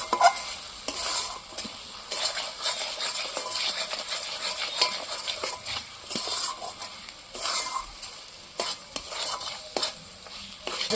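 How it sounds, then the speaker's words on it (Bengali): Thick spice paste for a fish curry sizzles and spits in a hot pan while a spoon scrapes and stirs it repeatedly in uneven strokes, close and fairly loud, with no talking. "এবার এটাকে আমি ভালো করে কষিয়ে একটু ভেজে নেব"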